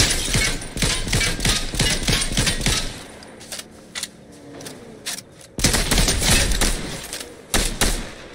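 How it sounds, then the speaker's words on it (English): Rapid gunshot bursts crack in a battle royale video game, loud and clustered at the start, fading to a quieter lull, then returning in sharp volleys near the end. "it sounds like they're shooting something"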